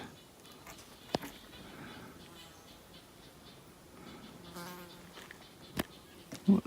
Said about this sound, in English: Oh, there's a bug.